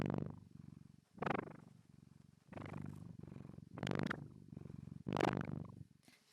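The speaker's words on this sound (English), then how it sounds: "My cat Vinyl decided to join." A domestic cat purrs up close, a soft rumbling pulse repeating in rhythmic waves of inhale and exhale, quiet and alone.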